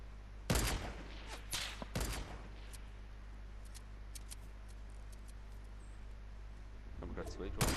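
Gunshots in Fortnite crack out as a few sharp, fairly distant reports in a quick cluster early on, then a long quiet stretch before more shots at the end, with low talk faintly underneath.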